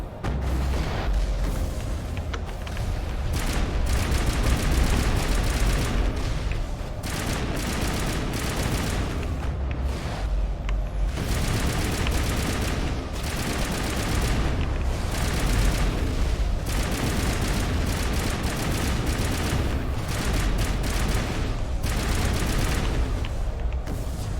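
Sustained gunfire and explosions from a firefight in Mass Effect, dense overlapping shots and booms in waves throughout, loud and continuous with brief lulls and no speech over it.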